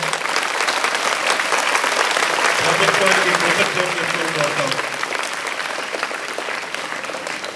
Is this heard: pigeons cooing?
no